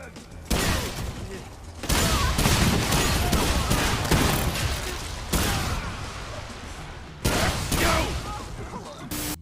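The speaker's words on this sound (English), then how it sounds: "Despite appearances, if this is a shotgun, it's patterning pretty tightly." Repeated shotgun blasts in the video game Remnant 2, a loud, dense volley of bursts and mechanical clatter in several long sustained stretches with brief gaps, under faint voices.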